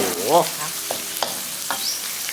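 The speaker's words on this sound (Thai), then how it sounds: "นี่เนื้อปลาดุกลงไปแล้วครับ" Catfish pieces frying in curry paste in a pan for a spicy Thai herb stir-fry, giving a steady close sizzle with a few brief stirring scrapes.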